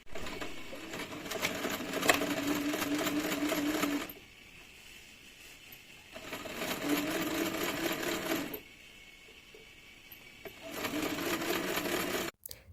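A sewing machine stitches the lining of a beaded bag in three rapid bursts of a few seconds each, separated by short pauses, close and steady.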